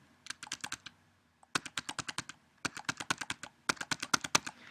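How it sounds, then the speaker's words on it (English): Rapid clicking of computer keys in several quick bursts separated by short pauses, close and fairly loud, as a password and personal details are typed in, with no voice heard. "go ahead and type in the password"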